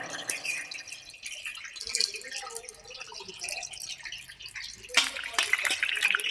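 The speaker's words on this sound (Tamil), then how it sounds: "வெந்தயம் பொரிஞ்சிருச்சு, பொன்னரமாக பொரிஞ்சிடணும்." Fenugreek seeds frying in hot oil for a garlic kuzhambu, a close crackling sizzle that comes in bursts, fading in the middle and swelling louder again toward the end.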